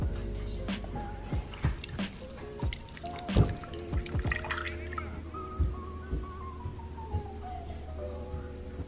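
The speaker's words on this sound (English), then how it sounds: "So the next thing you want to do is get this strained off to just get some of that pulp out." Ginger turmeric juice drips and trickles through a strainer, a steady run of close, small liquid plops and splashes with a continuous dribbling sound, no talk.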